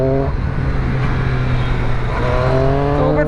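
A Triumph Street Triple RS naked motorcycle engine drones loudly and steadily while riding, a constant humming engine note with wind rush that rises slightly in pitch toward the end, with no talking.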